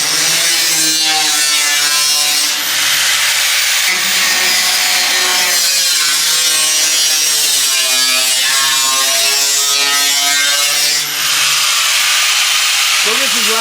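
A hand saw cutting through wooden roof ribs in a blacksmith shop, loud rhythmic rasping strokes back and forth close to the mic, with a few pauses between passes.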